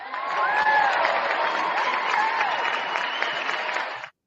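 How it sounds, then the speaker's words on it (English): Crowd applause for Cleveland, a dense, sustained wash of clapping with some cheering that holds steady for about four seconds before cutting off abruptly. "once again, let's give Cleveland a round of applause."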